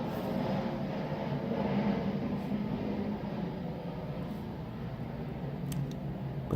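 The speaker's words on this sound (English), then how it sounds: "Forgive the jet overhead." A jet airliner passes overhead along an airport flight path, a steady broad rumbling roar that swells slightly and holds throughout, fairly loud and continuous with no talk over it.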